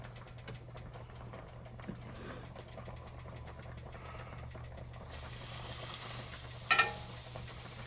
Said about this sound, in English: let's start frying these steaks